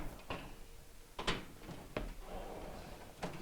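Refrigerator freezer door on a Whirlpool fridge being lifted and dropped back onto its hinge grooves: several short plastic-and-metal knocks and clunks at close range, scattered over a few seconds with quiet handling noise between.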